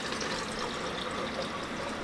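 Cider vinegar pours into a bottle while White BBQ Sauce is being made: a continuous, close, gurgling rush of liquid that fills the short stretch without a break, and nobody speaks.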